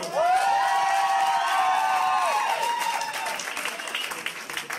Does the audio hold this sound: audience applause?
yes